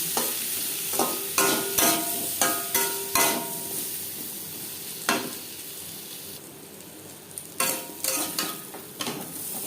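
Potatoes fry in a pan with turmeric and salt for a soybean curry, with a steady close sizzle under repeated, rhythmic scrapes and clanks of a stirring spoon against the pan.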